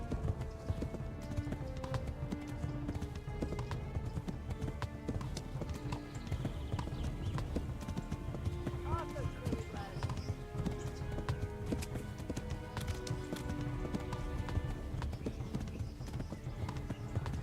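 Horse hooves pound in a fast, steady clip-clop rhythm in a video game, continuous and close throughout, with a brief whinny and game sounds layered in and no clear talk.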